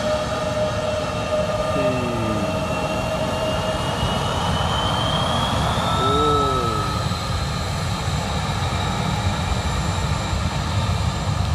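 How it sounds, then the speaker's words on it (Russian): Steady roar of a jet aircraft landing at Vilnius Airport, a sustained broad engine rumble with a rising whine, continuous and fairly loud throughout. "еще один садится самолет"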